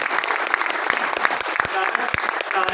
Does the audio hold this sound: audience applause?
yes